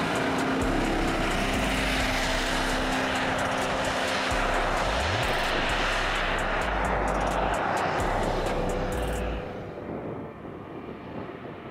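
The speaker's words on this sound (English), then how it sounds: "The wheels are fiercely skidding, scattering sand" A Land Rover Defender with a V8 engine churns through soft sand, wheels skidding. A loud, continuous engine roar with gritty broadband noise holds steady, then drops away near the end.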